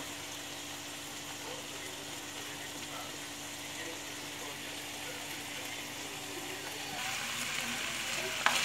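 Leftover Christmas ham frying in a pan, giving a steady, even sizzle that carries on throughout and swells slightly louder toward the end, close by with no talking.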